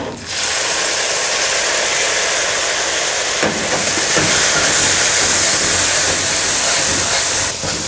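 Chopped tomatoes frying with ginger-garlic masala in a pan for a dhaba-style dal keema, a steady loud hiss and sizzle running the whole time with a brief clatter near the middle.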